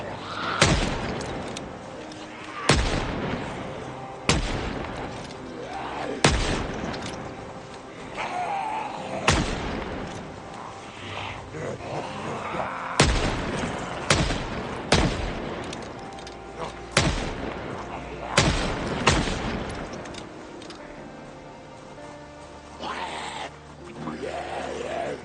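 M36 gunfire in Project Zomboid, a dozen or so loud, sharp single shots spaced a second or two apart, each ringing out with a short echoing tail over a quiet background.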